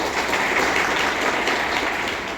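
Audience at a Gujarati gathering breaks into sustained applause, steady dense clapping filling the whole stretch at an even level with no voices on top.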